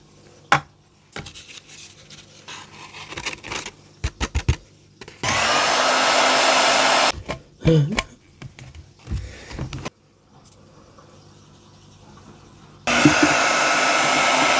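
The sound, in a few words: heat gun used for heat embossing a card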